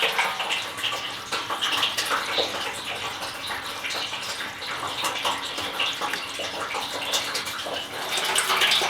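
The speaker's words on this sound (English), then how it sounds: "I'll fill that up probably just enough so that I can draw water out of this tap" Water runs steadily from a tap into a tank in a brewery shed, a continuous close splashing gush that holds an even level throughout with no voices.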